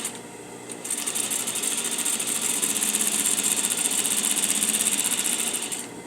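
A sewing machine stitches a straight seam forward, its needle running in a steady, fast rhythm for about five seconds before stopping, close and loud with no talking.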